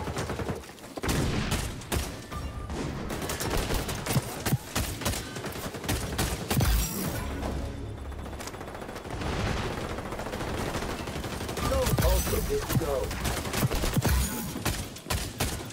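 Rapid bursts of MK20 rifle fire in the shooter game XDefiant, with dense, repeated shots and scattered impacts running continuously at close range, no talking.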